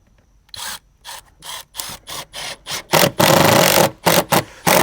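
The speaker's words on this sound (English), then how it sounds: "we're going to put 1 screw every 12 inches along the top" A power driver sets screws into faux wood/stone wall paneling, a series of short whirring bursts, each pause followed by a louder, longer drive near the end, close and without talk.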